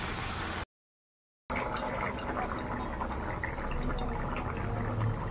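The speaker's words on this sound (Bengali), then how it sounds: "তো দেখো তরকারিটা ফুটে উঠেছে" A pot of potato and taro curry with soybean bubbling on the stove, a soft continuous simmering hiss with small pops, interrupted by a brief gap of silence near the start.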